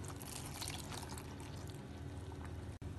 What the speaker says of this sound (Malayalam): ഇതിലേക്ക് അര കപ്പ് പാൽ ഒഴിക്കാം.